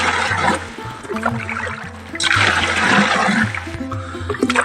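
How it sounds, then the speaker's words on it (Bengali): Water pouring into a container to dissolve potash for a fish pond, a loud, close rushing splash that thins to a trickle and then surges again, with no voices. "আমি এখন জল দিব।"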